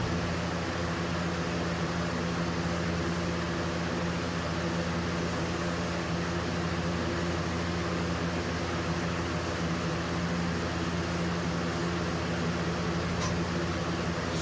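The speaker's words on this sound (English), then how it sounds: "Sorry about the fan noise" A ventilation fan runs inside a shuttle bus RV conversion while Danish oil is applied, a constant close whooshing drone with a steady low hum, unbroken throughout and with no talk.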